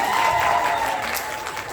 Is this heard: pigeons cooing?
no